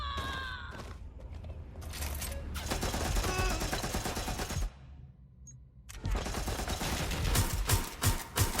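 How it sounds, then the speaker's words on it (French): Sustained automatic gunfire aimed at the player in the video game Watch Dogs Legion, with rapid bursts of shots across most of the stretch, a brief lull near the middle, then heavy firing again. "Merde, on me tire dessus."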